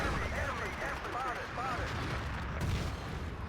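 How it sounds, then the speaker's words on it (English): An artillery strike in a Battlefield 2 conquest match, heavy booming gunfire rumbling steadily under a caster's overlapping commentary, with a sharper burst near the end. "Planewreck now dropping an artillery on it"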